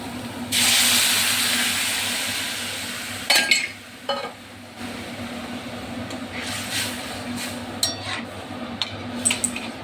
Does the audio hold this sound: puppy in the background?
no